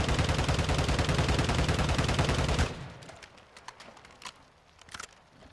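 Sustained rapid automatic fire from the ISO Hemlock rifle in Warzone 2 rattles loudly for nearly three seconds. Quieter reload clicks and handling sounds follow, with no talk.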